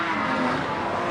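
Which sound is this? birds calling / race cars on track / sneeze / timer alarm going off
race cars on track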